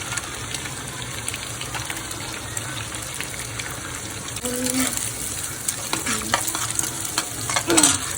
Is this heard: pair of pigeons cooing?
no